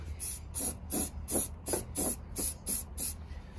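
An aerosol spray can applies paint inside a car body panel as rust protection, giving eight short hissing bursts in a steady rhythm, close and fairly loud.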